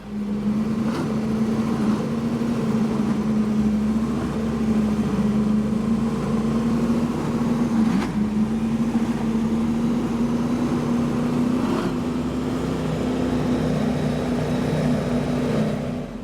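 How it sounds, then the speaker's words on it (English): Twin Mercury Racing 860 engines on a Cigarette 42X powerboat drone loud and steady, one sustained low throbbing roar under open-water wind noise. "that was certainly some nice ear candy from those Mercury Racing 860s"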